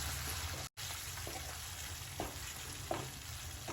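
Tomato puree sautés in a pan with sautéed onion, giving an even, continuous sizzle at close range, broken once by a brief dropout, with a few light stir taps.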